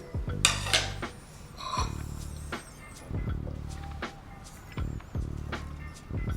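Fresh mixed berries, about four cups, tossed together in a bowl with repeated clattering knocks and scrapes of utensils against the dish in irregular bursts, close and fairly loud, no talking.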